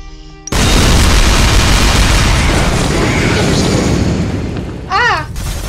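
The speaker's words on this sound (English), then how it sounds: "I'm just gonna do an airstrike." An airstrike in Shell Shock Live hits with a sudden loud boom that rolls into a long, heavy rumble of explosions. The rumble slowly fades, and a short squealing effect comes near the end.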